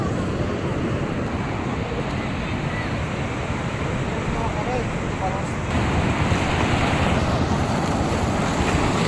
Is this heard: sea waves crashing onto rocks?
yes